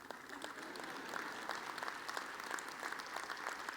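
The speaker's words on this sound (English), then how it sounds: "You can clap for that" Audience clapping during a 2014 council president inaugural address, a distant, quiet but continuous patter of many hands in a large room, even in level throughout.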